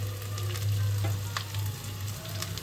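Boiled potato fries in a pan with turmeric and Kashmiri chili powder, a steady close sizzle with stirring scrapes and small pops over a low burner hum.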